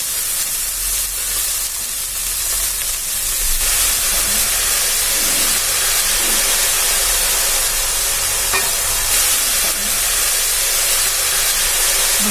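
Ginger garlic water lightly sprinkled by hand onto a hot pan of drumstick flower and egg bhurji, a loud continuous hiss of steam and sizzle that holds steady throughout, with no talking.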